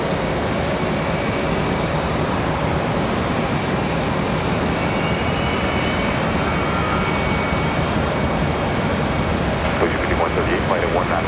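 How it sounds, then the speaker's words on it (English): A Southwest Airlines jet moving at Charlotte Douglas International Airport makes a dense, continuous engine roar that stays loud and steady throughout, with speech faintly underneath. "Southwest Airlines is moving"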